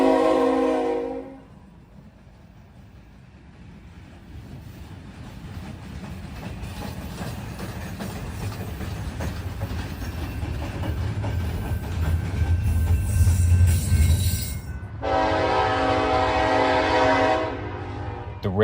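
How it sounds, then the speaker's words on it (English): A freight train with old switcher locomotives, including a Canadian Pacific unit, passes, a rising rumble and rolling clatter that builds to a peak, with a loud horn blast at the start and another near the end. "we see a couple of scrap units heading east, a couple of old switchers, one of them being Canadian Pacific."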